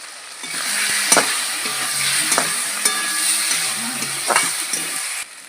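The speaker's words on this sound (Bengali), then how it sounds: "ভালো করে সব কষিয়ে নেব" Bhola fish masala with turmeric and chili powder sizzles loudly in a pan, broken by repeated sharp scrapes and knocks of a stirring spatula, then stops abruptly.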